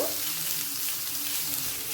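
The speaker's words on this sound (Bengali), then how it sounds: "আলুটাকেও পটলের সাথে ভেজে নেব" Potato and pointed gourd pieces frying together in oil in a pan, a dense, even hiss of sizzling that stays loud and steady throughout, with no voices.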